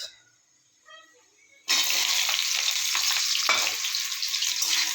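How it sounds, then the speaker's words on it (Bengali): Loud, steady sizzling of onions frying in oil with nigella seeds and bay leaves begins abruptly after a quiet start and continues without pause. "পেঁয়াজটাকে ভালো করে ভেজে নেব।"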